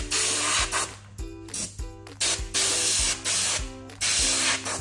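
Short hissing bursts from a paint spray gun shade the body of a clay bull idol, repeated in quick on-off pulses over a steady mechanical hum.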